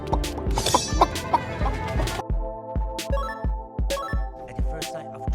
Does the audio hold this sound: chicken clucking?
yes